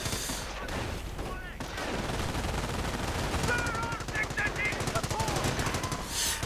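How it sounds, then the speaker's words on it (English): Machine gun fire from an MG42 and a .30 caliber in a World War II strategy game, as a steady rapid rattle of bursts. It is fairly faint and mixed with battlefield din. "MG42 setting up, 30 caliber keeping the Volkswagens down"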